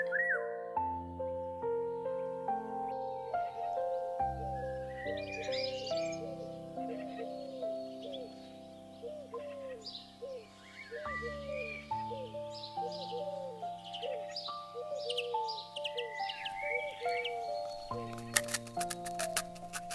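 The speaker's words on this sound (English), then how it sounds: "birds are singing" Bright, melodic whistled chirps and trills repeat over a layered, sustained musical backdrop, with a few clicks near the end; the birdsong sounds close and clear.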